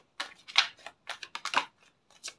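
Tarot cards are shuffled in several quick, crisp riffling bursts, close and fairly quiet, with short gaps between them.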